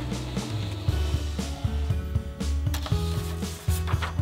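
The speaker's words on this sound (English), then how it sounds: "Let's print another nozzle pattern test print." Epson desktop printer printing a nozzle pattern test, with irregular mechanical whirring, clicks and gear-driven motor tones moving in short repeating bursts at close range.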